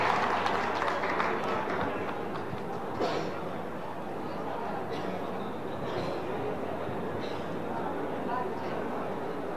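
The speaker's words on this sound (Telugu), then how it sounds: "గట్టిగా చప్పట్లతో స్వాగతం పలకాల్సిందిగా కోరుతా ఉన్నాం." Sustained applause from a crowd at a political meeting in Adilabad, welcoming a former MP to speak: a dense, steady clatter of clapping that fills the whole stretch at an even, fairly loud level.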